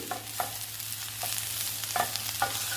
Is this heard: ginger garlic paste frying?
yes